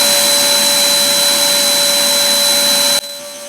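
A vacuum pulls hard on a sagging car hood liner, a loud steady whining roar that cuts off abruptly near the end, leaving a quieter hum.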